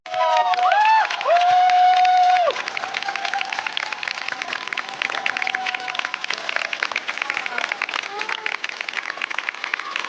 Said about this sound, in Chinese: 而现在我请大家用热烈的掌声送给我们